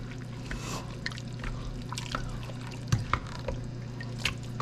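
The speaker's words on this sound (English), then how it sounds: "Let's give it a good stir." A spoon stirs a pot of homemade extra meaty spaghetti sauce, producing soft wet sloshing and a few clinks against the pot over a steady low hum, close and moderately quiet.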